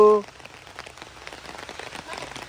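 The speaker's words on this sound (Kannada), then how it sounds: "ಆಹಾ ಸುಂದರವಾದ ಮಳೆ" Steady rain patters and splashes on surfaces nearby, a dense hiss of drops continuing after a short voice at the very start.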